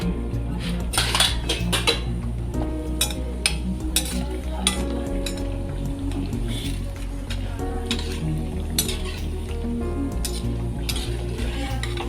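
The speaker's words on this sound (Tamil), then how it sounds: "கடாயில் ஆயில் வச்சுருக்கேன் இப்போ வடாத்தை போடுறேன்" Sun-dried curry vadam fry in oil in a kadai with a soft, steady sizzle, overlaid by frequent metallic clinks and scrapes of a ladle against the pan, close and fairly loud.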